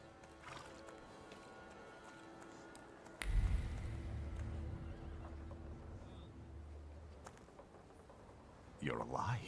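A horse in the video game The Thaumaturge whinnies near the end after a heavy thump and a stretch of clopping hooves and low rumble, with music and a voice talking earlier.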